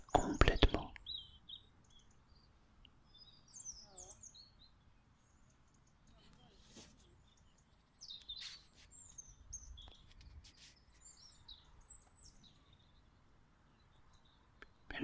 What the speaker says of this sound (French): Et le chant des oiseaux qui t'accompagne